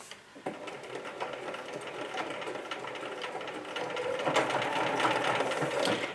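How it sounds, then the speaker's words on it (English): A sewing machine stitches scraps of fabric into a coaster with a steady, close, mechanical whir and rapid needle ticking that grows slightly louder partway through as it runs forward and back. "I am locking my stitches by going forward and backward."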